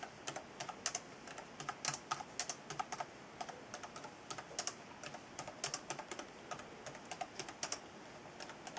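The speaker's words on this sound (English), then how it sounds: "this is a sample of typing on my computer" Rapid keystrokes clatter on a computer keyboard in quick, irregular bursts, close and crisp with no voices.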